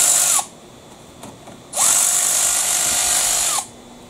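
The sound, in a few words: power tool removing axle bolts on Jeep Wrangler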